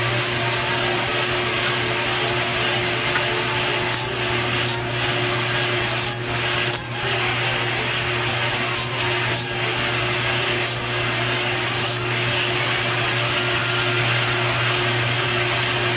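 Steady, loud mechanical hum and whir of a Cretors CMD 100 Caramelizer mixing caramel popcorn, continuous throughout with a low motor drone and a few brief scraping or rattling bursts.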